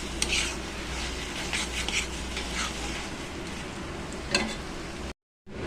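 A spoon stirs and scrapes onion and poppy seed paste in a pan, a steady close scraping with faint sizzling of oil and a few metallic taps, cut off abruptly near the end.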